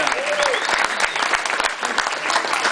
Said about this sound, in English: A round of applause for Kiva and Phil Card